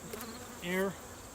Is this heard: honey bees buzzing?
yes